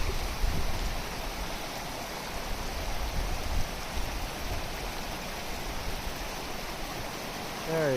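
A creek, the South Fork of the Santa Ana River, runs across a backcountry water crossing fed from Dollar Lake and Dry Lake, giving a steady, close, broadband rush of flowing water that holds even throughout with no talking.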